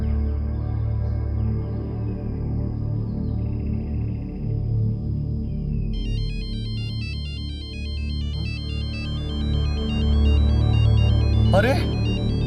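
A phone's electronic ringtone chimes repeatedly in a warbling pattern through the second half, mixed under ongoing talk and background music in a Rajasthani-language film scene.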